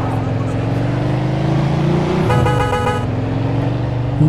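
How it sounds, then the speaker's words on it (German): A car horn honks in a steady blast over a continuous engine drone, with game-like vehicle sounds throughout, from the video game Mafia II on PS4. "Hupe geht."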